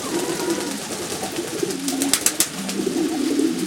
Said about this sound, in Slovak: To je veľmi pekná holubička.